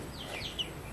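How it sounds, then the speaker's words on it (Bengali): Baby chickens peep faintly in a few thin, high chirps over a quiet, steady background hiss. "আর এই হলো আমাদের মুরগির বেবি।"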